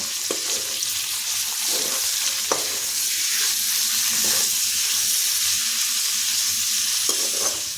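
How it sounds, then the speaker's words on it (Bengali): Chopped carrot and capsicum frying in a pan for chicken chowmein, a steady broadband sizzle running throughout with a few brief scraping stirs, close and fairly loud, no voices. "দিয়ে দিচ্ছি গাজর কুচি, দিয়ে দিচ্ছি ক্যাপসিকাম। এখন সবজিগুলো ভেজে নেব।"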